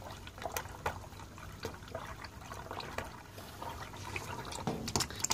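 Old engine oil mixed with water and sludge draining out after thirteen years, heard as faint trickling, dripping and splashing with irregular small drops close by.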